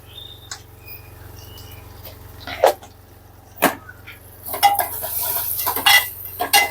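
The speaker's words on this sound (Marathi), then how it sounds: "व्यवस्थित मिक्स करून घेऊया" A spoon stirs a moong and vegetable mixture with garlic, coconut and salt in a cooking pot, giving scattered metallic clinks and scrapes against the pot over a low hum, busier toward the end.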